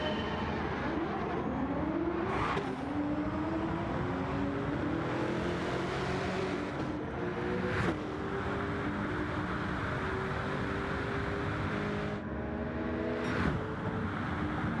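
A Nissan GT-R T-Spec '24 with a swapped-in Bugatti Chiron V16, running on nitrous in Gran Turismo 7, accelerates hard through several gear changes. The engine note rises steadily, with brief breaks at each shift, loud and continuous, no voices.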